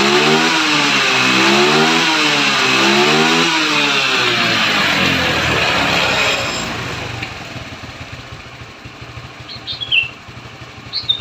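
A Yamaha Mio scooter with a carburetor that sputters when the throttle closes, engine revving loudly in rising and falling waves before dropping to a rough, uneven idle with occasional small surges.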